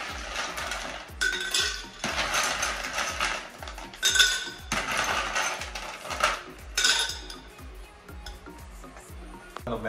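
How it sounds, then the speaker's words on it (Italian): Glass and metal clink and clatter as a mixing glass is handled while a grappa cocktail with mint and celery bitters is made, with quick, close, busy knocks and scrapes continuing throughout. "Prendiamo un mixing glass."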